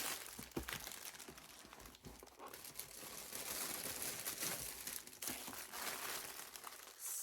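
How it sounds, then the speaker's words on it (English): Plastic craft-supply bags of beads and metal embellishments crinkle and rustle nearby in a haul unboxing, an irregular stream of soft crackling handling that grows busier and louder partway through. "We're going back to a lot of crinkling."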